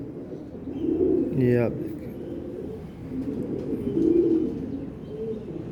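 A female Teddy breed pigeon coos in low, throaty pulses close to the microphone, repeating through the clip, while someone talks over it.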